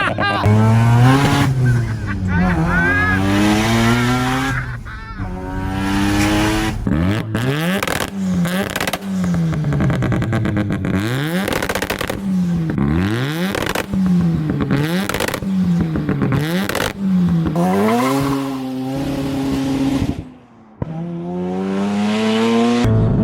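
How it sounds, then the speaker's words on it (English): A 1993 Mazda RX7 FD 3S rotary with 500 wheel horsepower, catalyst and custom exhaust, revs very loudly in repeated rising and falling sweeps close by, with someone shouting over the engine throughout. "Very noisy, catalyst, custom exhaust."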